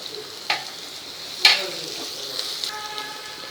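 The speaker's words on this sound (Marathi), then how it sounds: "आता आपल्याला याच्यात घालायचं आहे हिंग." Asafoetida dropped into hot oil for carrot sabzi brings a steady close sizzle and frying hiss, with a couple of sharp utensil scrapes and clinks as it is stirred.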